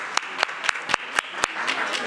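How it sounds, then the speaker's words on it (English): Training participants at a neighborhood leadership session give themselves a short round of applause: a small group claps in distinct, fairly regular beats, roughly four per second, with a few softer claps between them. "give yourselves a round of applause because you did great work today"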